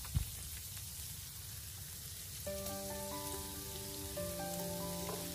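Pork stir-frying in a pan with chopped garlic, a steady crackling sizzle heard close up; a tonal melody joins halfway through and continues over the frying.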